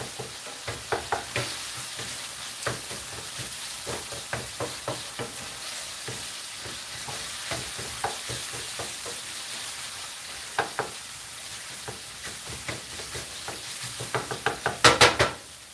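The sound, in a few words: stirring taco filling frying in a pan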